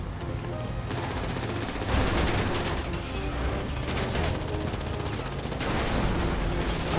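Sustained rapid gunfire from a GTA 5 shootout, dense bursts of automatic fire rattling almost continuously at loud, close range, with brief lulls and booming swells, and faint voices beneath.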